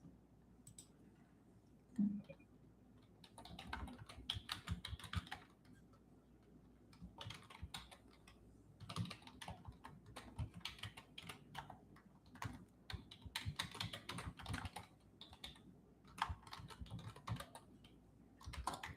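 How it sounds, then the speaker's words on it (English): Soft, quick keystrokes on a computer keyboard come in irregular bursts, fairly faint and close, with brief pauses between runs and no talking. "I'm going to type it out unless you respond first."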